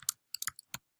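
Keys on a computer keyboard tapped while entering HTML header-tag code for a first webpage, a few quick clicks in two short bursts, close and fairly quiet with no voice.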